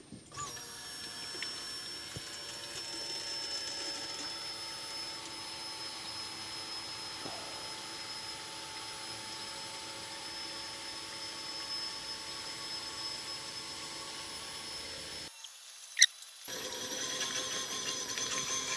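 An electric fuel pump on an Audi RS6 fuel system setup runs steadily during a flow measurement, a faint, even whine and hum that holds for about fifteen seconds, stops abruptly, then resumes.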